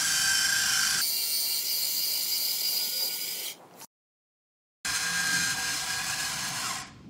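A Potato Express peeler gadget whirs as it peels an apple, a bright mechanical buzz that steps down in pitch, cuts off to a second of silence, then buzzes again before easing off at the end.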